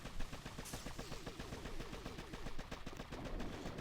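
Rapid bursts of machine gun fire from the Boom Beach mobile strategy game, quiet and steady across the clip, with a brief brighter effect near the start and no talking.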